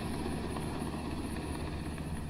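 A military helicopter departs over a toll booth area in Culiacán, Sinaloa, its rotor and engine producing a constant, distant rumbling chop that holds steady throughout.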